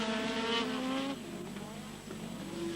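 Formula 1 race cars of 1985 braking into the chicane at Paul Ricard, heard faintly from a distance, a high engine whine falling in pitch as they slow, then another car's tone rising.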